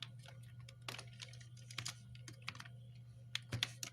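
Typing on a computer keyboard, quiet, close clicks in irregular bursts of keystrokes over a low steady electrical hum.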